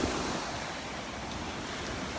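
Ocean waves wash steadily onto a beach in Destin, Florida under yellow-flag conditions, a continuous broad surf roar with some wind, no voices.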